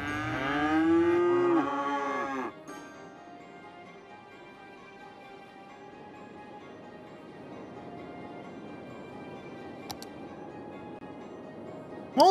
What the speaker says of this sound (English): What's up, cows?